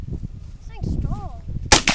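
A single sharp gunshot cracks loudly near the end, close to the microphone, following a brief stretch of low rumbling background and faint whistling tones.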